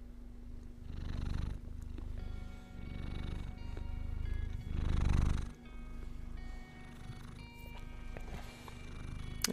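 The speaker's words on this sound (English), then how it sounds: "You're gonna purr into the mic." A cat purrs right into a microphone, a close, rumbling purr in repeated breathing pulses, loud and steady with no voices over it.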